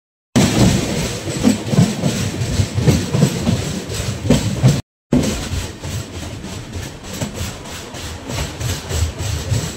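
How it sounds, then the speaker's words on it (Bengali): The Garib Rath Express rolls through Old Malda Junction without stopping, giving a loud, continuous rattle and clatter of wheels on rail with rhythmic clicks and a brief break partway through. "আমরা এখন পার হচ্ছি ওল্ড মালদা জংশন। এখানে আমাদের ট্রেনের কোনো স্টপেজ নাই"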